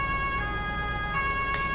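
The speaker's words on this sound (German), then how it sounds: "Ja, machen wir die Sirene mal an." Emergency vehicle siren sounding in the farming simulator Landwirtschafts-Simulator 19 during a bridge-collapse rescue mission, a steady, loud tonal wail running continuously without talk.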